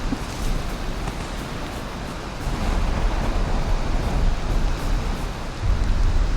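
Steady rain in the video game Valheim hisses continuously, a dense, even wash of falling water that swells slightly louder toward the end.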